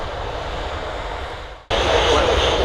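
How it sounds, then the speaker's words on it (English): KLM Boeing 737-700 jet at Manchester Airport, a continuous broad engine roar that drops briefly, then resumes louder and brighter, sounding fairly close. "KLM 737-700, and that's going back to Amsterdam"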